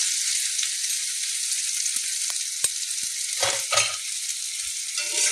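Blended chopped onion frying in oil in a wok on an electric heater, a steady bright sizzle throughout with a few brief stirring scrapes and clicks, no talking.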